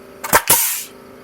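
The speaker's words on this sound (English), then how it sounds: "Need to get about 100 psi driving the nail." A Stanley pneumatic nail gun driven at about 100 psi fires a nail, a sharp double crack followed by a short burst of escaping air, close and alone.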